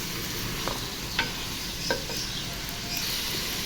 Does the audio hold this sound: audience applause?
no